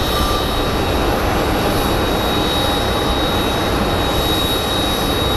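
Jet airliner engine roar at Phoenix Sky Harbor International Airport, a steady, loud broadband rumble that holds evenly throughout with no break or talk.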